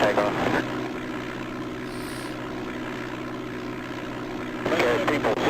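An aircraft in the DOS game Flight Simulator 5.1 holds a constant propeller engine drone on the runway while a voice speaks over it near the start and end.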